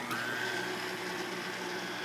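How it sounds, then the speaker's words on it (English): An electric hand mixer runs steadily, whirring as it beats vanilla pudding mix and milk together in a bowl, a continuous motor hum with no pauses. "with an electric mixer, mix pudding, milk, and vanilla together"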